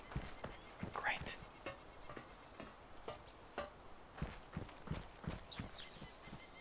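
Footsteps on grass in the survival game DayZ, a steady series of soft, crisp steps with light rustling, moving at a walking pace under bits of background noise and some talk.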